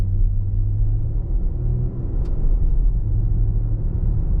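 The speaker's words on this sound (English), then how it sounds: "We have a whole row of vehicles about to go past us" Steady low road rumble inside a 2023 Infiniti QX60 Autograph AWD while a row of vehicles goes by outside, their passing muffled and faint over the constant cabin drone.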